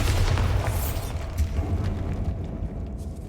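Booming spell blast from the Bombarda charm in Hogwarts Legacy, a deep rumbling explosion with a crackling burst that rolls on at steady loudness before tapering off.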